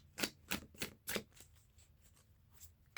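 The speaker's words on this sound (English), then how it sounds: "I pretty much just shuffle until I feel like" Tarot cards riffled and shuffled in several quick bursts, close up, each a crisp papery flutter, then quieter rustling.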